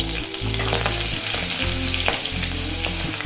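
Green chillies and fennel seeds fry in hot oil with mustard seeds, giving a steady close sizzle with occasional stirring scrapes and no talk.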